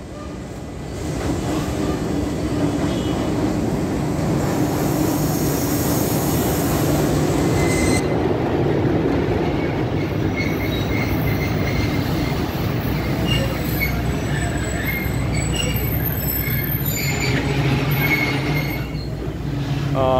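A train led by a PHA 20 locomotive passes at high speed through Tarnol Railway Station, a loud, sustained roar of wheels and wagons with squealing rails and rhythmic clatter close by for the whole stretch.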